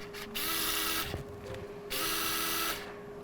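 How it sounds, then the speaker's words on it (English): Surgical power drill boring into the femoral condyle during a KneeBar knee procedure, heard in two sustained whining bursts separated by a short pause, with faint clicks and mechanical handling between them. "Now we'll prove it with the drill."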